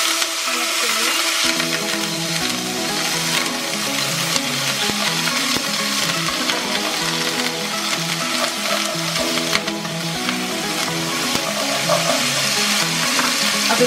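Garlic and ginger paste frying in hot oil in a pot, a loud, steady crackling sizzle that begins with a sudden burst after about a second and runs on continuously with no talk.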